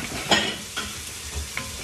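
Finely sliced red onion sizzles in a pan for Kerala coconut fish curry, a steady close frying hiss broken by a few soft stirring scrapes.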